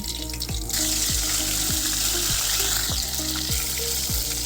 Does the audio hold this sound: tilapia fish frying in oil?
yes